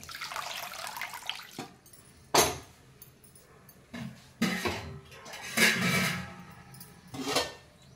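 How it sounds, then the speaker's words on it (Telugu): Water poured over boiled gongura leaves in a kitchen, several separate bursts of pouring and splashing with quieter gaps between, close by and moderately loud, no voices. "కొంచెం వాటర్ పోసుకుని"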